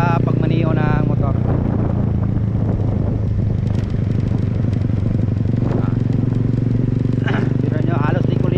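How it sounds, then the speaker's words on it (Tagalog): A motorcycle rides along a winding street, its engine a steady close rumble with slight pitch changes, while someone talks over it. "Hinahinay lang tayo sa pagmaniho ng motor."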